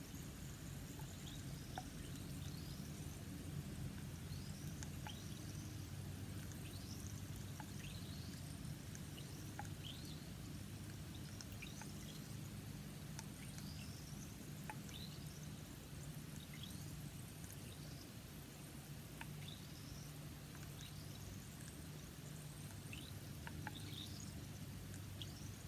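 Steady fizzing hiss of an effervescent tablet dissolving in water, with crackling bubbles and faint high chirps throughout, no talking.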